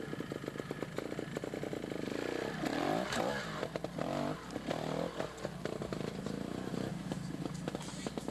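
A trials motorcycle engine on a hill climb during a 1989 world championship round in Canada, revving hard and sputtering with rapid throttle changes, fairly distant and steady throughout.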